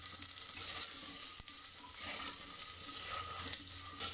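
Onions frying with garlic-ginger paste for saag make a steady, even sizzle that stays close and constant, with faint stirring scrapes now and then and no voices.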